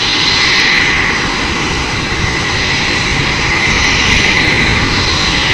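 An aircraft performing an aerobatic maneuver at an air show roars loudly and continuously overhead, a dense, steady engine drone with a bright high whine that holds throughout.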